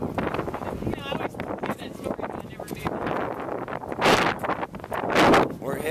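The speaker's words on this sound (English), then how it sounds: "It's really, really windy." Heavy wind buffets the microphone in loud, rumbling gusts, with two especially strong blasts, while a voice talks underneath.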